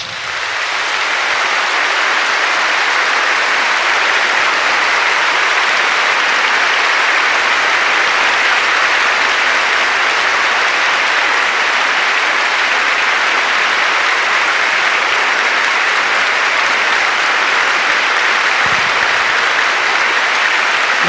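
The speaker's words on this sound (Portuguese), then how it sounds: "E a isso você pode aplaudir," A large church congregation breaks into loud, sustained applause that holds steady as a dense, even wash from start to finish, filling the room with no voices rising above it.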